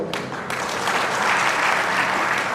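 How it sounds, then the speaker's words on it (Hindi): Sustained audience applause at a Brahmin community talent award ceremony in Jaipur district, a dense, steady wash of many hands clapping that swells slightly and holds without a break. "एक बार इतनी ताली बजाकर स्वागत करें।"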